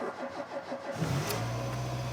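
A motorbike engine with the choke out cranks over in a rapid stuttering rhythm for about a second, then catches and settles into a steady, close running idle, with no talking.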